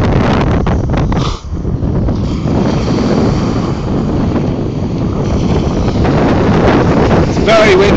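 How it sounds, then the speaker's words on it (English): Strong wind buffeting the microphone at the beach, a loud continuous roar with gusts and surf underneath, with a person talking briefly. "It's very windy, sorry."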